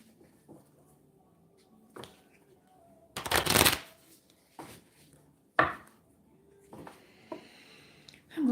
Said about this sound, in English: I'm going to pull some animal oracle cards here.